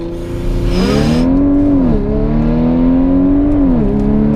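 An APR Stage 2 supercharged Audi S5 accelerating hard during a launch test, its loud engine drone climbing in pitch, dipping briefly at gear changes and then rising again, heard close and continuous.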